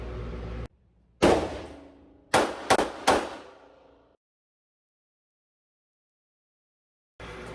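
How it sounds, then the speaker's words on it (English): Three sharp, loud gunshots from a Colt Detective Special .38 revolver drawn from concealment, the first standing alone and the last two coming in quick succession. Each crack rings out briefly, and silence follows. "I drew from concealment with my right hand and fired 3 shots"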